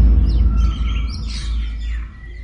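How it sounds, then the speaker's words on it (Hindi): Birds chirp and tweet in light, scattered calls over a steady low rumble of background noise. "चिड़ियों के चहचहाने की आवाज से पता चला कि सवेरा हो चुका है।"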